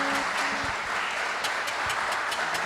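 A church congregation applauds together, a steady dense wash of clapping that fills the room for a few seconds without a break, moderately loud and even throughout.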